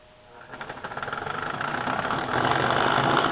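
A model locomotive with a double reduction motor runs slowly, giving a close, steady mechanical whir with a fast pulsing rattle that grows a little louder and denser as it goes.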